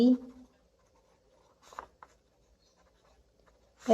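Pen scratching across paper while geometry working is written out in a maths lesson, with a few short, soft strokes between a voice at the start and end.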